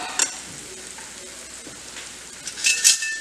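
Schezwan sauce paste sizzles and fries in a pan while being stirred, a steady close crackle with a brighter burst of sizzling near the end.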